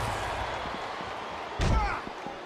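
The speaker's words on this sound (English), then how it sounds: "The eerie sound of that human skull slamming off the announce table." A loud slam of a wrestler's head hitting the announce table at a pro wrestling match, a single heavy impact that rises above the constant arena crowd noise, with commentary voices faintly underneath.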